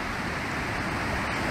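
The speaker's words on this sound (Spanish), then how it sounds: "Y este es el agua que viene. Y como he dicho, y la cascada." Mountain waterfall near Aigualluts below the Maladeta massif, a steady broadband rush of falling water, loud and unbroken.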